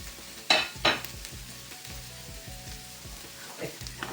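Green onions sautéing in a pan sizzle steadily, with two sharp stirring clatters near the start and softer scrapes later, close and without voices.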